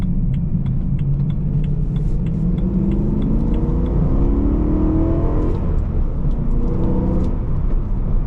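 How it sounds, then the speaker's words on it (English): A 2008 BMW M3 E92 with a manual gearbox revs up steadily inside the cabin, its engine note climbing and falling as the driver blips the throttle to match revs between shifts, a continuous loud rumble throughout. "Obviously no auto rev matching, but I can do it myself."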